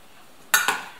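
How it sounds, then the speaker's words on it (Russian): A spoon stirs a meat roll filling in a bowl, making two quick, close scraping clinks in a row against an otherwise quiet background. "Хорошо перемешиваем"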